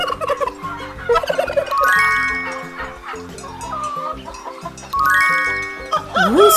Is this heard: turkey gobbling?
yes